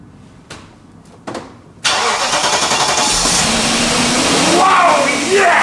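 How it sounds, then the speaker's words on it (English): A BMW E39 540i, a neglected car under repair, cranks with a few separate turns, then its engine catches and roars into a loud, steady run close by, with voices partly heard over it. "Marcel, try to crank it."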